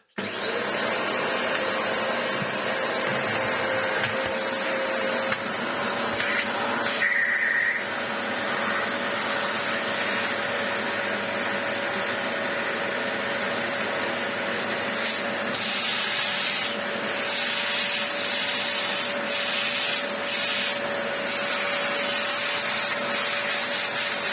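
A Dyson DC25 vacuum cleaner with an air leak runs loud and close for the whole stretch, a steady whining roar that shifts slightly in tone partway through, with no talking.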